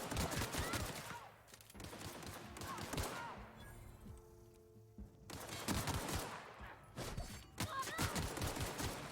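Gunfire in The Outer Worlds comes in dense, rapid bursts, with a lull in the middle before heavy shooting resumes, loud and close, with a voice partly mixed underneath.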